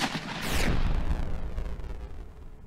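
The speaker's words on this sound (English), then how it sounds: "Let's instead open fire. High explosive rounds." High explosive round fired from a tank in a simulator game: one deep, loud boom that swells quickly, then rumbles and fades over the next two seconds.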